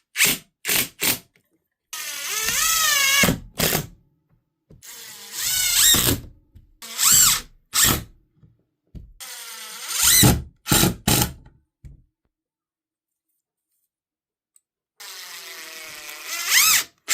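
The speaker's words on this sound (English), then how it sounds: "I screwed it in the front, I screwed it from the side," A Ryobi drill driver fitted with a rail accessory system drives screws, with repeated bursts of whirring motor and ratcheting clutch separated by short pauses, close and loud.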